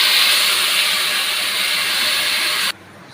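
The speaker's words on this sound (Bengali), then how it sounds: "7-8 মিনিট ধরে আমার পেঁয়াজটাকে আমি ভালো করে এখানে সুন্দর করে কাঁচা গন্ধটা যতক্ষণ না বেরিয়ে যাবে ততক্ষণ পেঁয়াজটাকে ভাজবো" Ground onion paste drops into hot oil for a chicken roast, giving a loud, dense, even hiss of frying that holds steady for a few seconds and then cuts off abruptly, with no voices.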